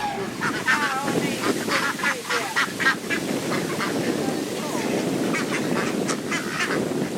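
Geese and ducks honking and quacking repeatedly on a cruise outing, a busy run of nasal calls close by under a steady background, with people talking now and then.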